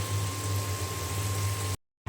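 A pot of egg curry at a low simmer gives a steady bubbling hiss over a constant hum, with a short silent gap just before the end.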